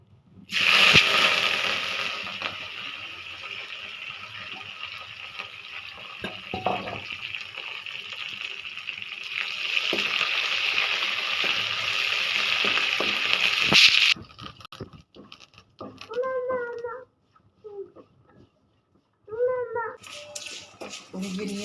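Curry leaves and whole dried red chillies fry in hot oil with a steady, close hiss and crackle for most of the time, then the sizzling stops and a voice speaks in short bursts.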